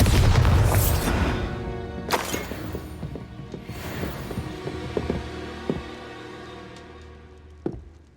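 A Bombarda blasting spell goes off in Hogwarts Legacy on Nintendo Switch: a loud booming burst at the start, followed by sharper impacts and rumbling hits, with one more thud near the end. No one speaks.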